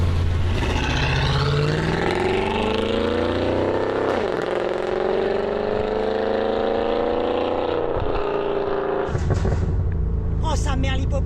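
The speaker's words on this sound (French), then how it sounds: "ce pop and bang de fou là" A Mercedes E55 AMG W211 tuned past 730 hp revs hard, its engine note rising and falling in a loud sustained roar, then crackling with sharp exhaust pops and bangs near the end.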